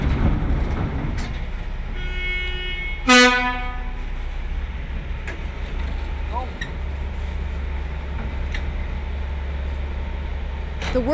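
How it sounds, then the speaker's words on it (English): A construction train on the Seymour Capilano tunnel project rumbles underground, with a steady low drone, a brief horn blast and scattered metallic clatter, while a narrator speaks over it. "This train ride is going to take us approximately 20 minutes."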